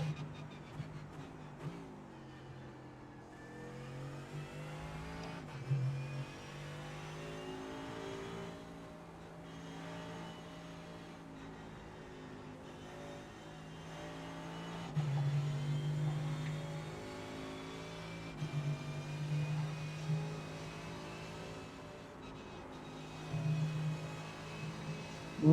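A GT race car in the iRacing sim at Road America holds a steady, loud engine drone with rising and falling revs through gear changes, running alone over the whole stretch.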